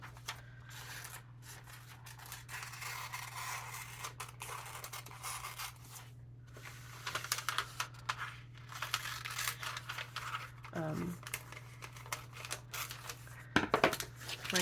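Scissors snip a picture out of a glossy magazine page in quick, close, quiet cuts, with crinkling paper and a steady low hum underneath.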